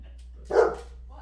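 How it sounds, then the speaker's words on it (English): A single short dog bark, close by, standing out briefly against a quiet background hum. "Blaine, what are we barking about?"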